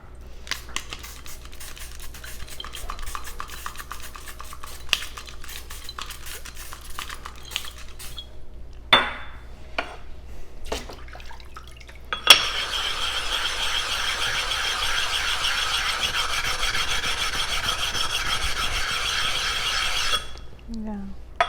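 Knife blade being polished after sharpening, first sparse light scratchy clicks and taps, then a steady hissing abrasive scrape of close strokes lasting several seconds, with some talk.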